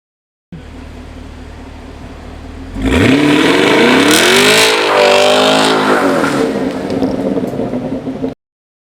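A 2018 Chevrolet Camaro 2SS Hot Wheels Edition V8 runs at a low idle, then revs up loudly and accelerates hard, its engine note sweeping up and down before cutting off abruptly.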